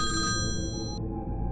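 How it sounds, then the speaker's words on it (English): A telephone rings just before midnight, a bright repeating electronic bell tone over a low rumbling background that cuts off about two-thirds of the way through. "Travis's sister received a phone call."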